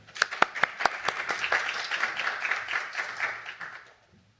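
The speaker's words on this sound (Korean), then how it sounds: "큰 박수로 맞아주시기 바랍니다." An audience applauds as a professor is welcomed to the first session of an academic peace conference, opening with a few sharp, separate claps that swell into steady, moderately loud clapping and then fade out near the end.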